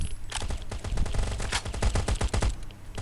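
Gunfire in the video game Last Day Rules Survival, with rapid automatic bursts and scattered single shots crackling loudly and continuously for several seconds.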